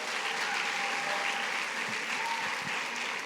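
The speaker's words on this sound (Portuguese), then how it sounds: "Dá uma salva de palmas para eles aí" A church youth congregation gives a continuous round of applause, a thick, even clapping with a few low thumps near the end, loud and close with no break.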